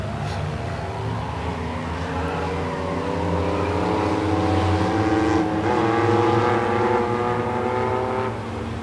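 Race cars roar around a dirt track during a feature race, a continuous loud engine drone with rising and falling pitch as several cars pass and accelerate, no talk over it.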